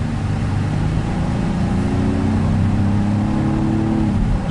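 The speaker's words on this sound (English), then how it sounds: "You can hear the engine" A 2019 Honda Passport EX-L pulls ahead on the road, its engine droning steadily with a rising tone over constant tire and road noise, heard from inside the cabin.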